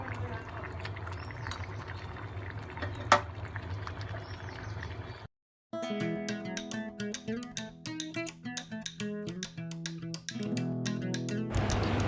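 About one cup of hot water is poured into a cooking pot of simmering bean-seed vegetables for a catla fish curry, a quiet continuous pour and bubble. It is followed by a short silence and then background music.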